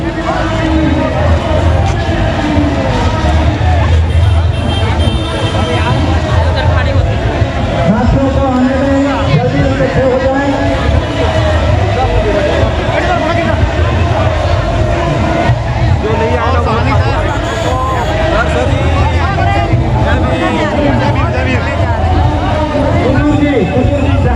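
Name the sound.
crowd gathering at a Bharat Bandh rally at Ambedkar Chowk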